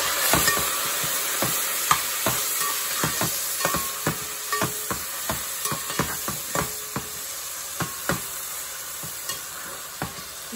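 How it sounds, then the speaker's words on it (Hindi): Steady sizzling of garlic ginger paste with a little water in a hot pan, with repeated clicks of a utensil stirring, close by and moderately loud. "ये थोड़ा सा लहसुन अदरक हमने सौते किया"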